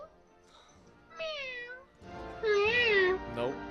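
A person imitating a cat with two drawn-out, wavering meows separated by a short pause, loud and close.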